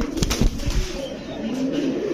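Pigeons with full pearl-coloured eyes at a pigeon sale give low, soft cooing in a short burst, with a brief flutter near the start and background murmur.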